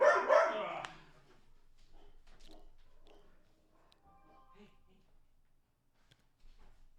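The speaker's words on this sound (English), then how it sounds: "Oh, the dogs are going nuts." Dogs barking excitedly, a loud burst of yips and barks at the start, then fainter scattered barks in the background while people talk.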